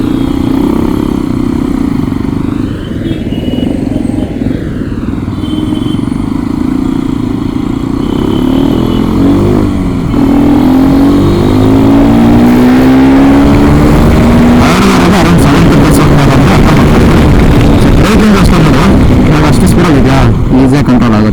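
A Hero Xpulse 210 motorcycle ridden on Bangalore roads, its engine droning loud and steady throughout, rising in pitch as it accelerates, with heavy wind buffeting over the mic.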